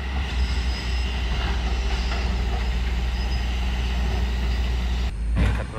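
Loaded Lohan truck grinding up a slippery slope, a steady heavy diesel drone with clattering undertone, ending in a short hissing air burst.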